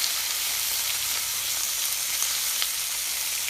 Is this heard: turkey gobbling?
no